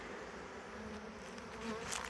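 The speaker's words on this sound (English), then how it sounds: "Good, clean, healthy bees." Honeybees drone in a steady, soft buzz inside an opened winter hive that is brooding and growing, a continuous near hum with slight swells and no voices.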